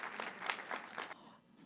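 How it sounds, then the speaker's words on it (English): Audience applause for forum panelists at an evening civic event, a brief burst of clapping that swells and then fades out after about a second. "let's give a round of applause to each of our panelists"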